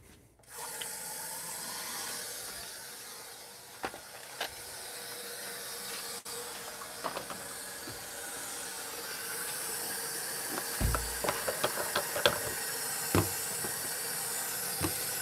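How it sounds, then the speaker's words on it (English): Hot water running from a tap into a sink in a workshop cleaning area, a steady hiss of flow with scattered clicks and knocks of handling over about fifteen seconds. "I'm going to start the water so I can get the hottest water I possibly can"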